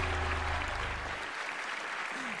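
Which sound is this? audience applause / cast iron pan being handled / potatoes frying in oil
audience applause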